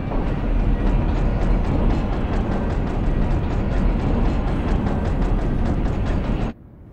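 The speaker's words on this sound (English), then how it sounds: "This tram is bound for Nest." Tram carriage in Resident Evil 2 Remake rumbling along steadily with a continuous low roar and rhythmic clatter, loud and unbroken for several seconds before cutting off abruptly near the end.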